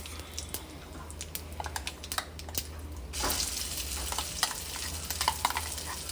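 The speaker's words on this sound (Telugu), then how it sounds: "గ్రైండింగ్ అయ్యాక కొద్దిగా తాలింపు వేసుకోవాలండి." Hot tempering poured into amla chutney gives a crackling sizzle with dense clicky pops, rising to a steadier, louder fry in the second half; close up, no talk.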